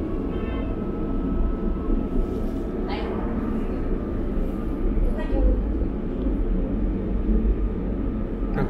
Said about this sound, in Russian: Трамвайчик, а так он один на маршруте.